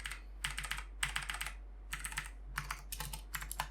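Keys clack on a Fühlen mechanical tenkeyless keyboard in quick bursts of close, crisp typing, with brief pauses between clusters of presses.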